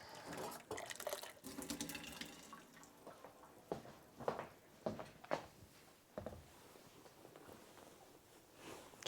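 Water running from a tap into a foot bath for a hot foot soak, splashing and dripping unevenly with sharp drops and gurgles over a steady wash, close by.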